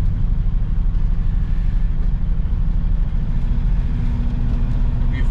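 An Airstream Argosy 28 motorhome drives along, a loud continuous low engine and road rumble heard from inside, steady throughout with no distinct talking.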